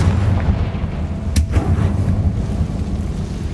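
A Confringo fire-blast spell explodes in Hogwarts Legacy, one sharp booming blast amid a continuous rumbling battle din, with a low roar carrying on before and after the hit.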